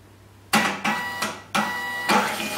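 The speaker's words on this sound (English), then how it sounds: "This printer model, the S4M, will also recalibrate when it's rebooted." A Zebra S4M label printer recalibrating after a reboot, giving four loud mechanical bursts of feeding and whirring with short gaps between them, heard close and alone.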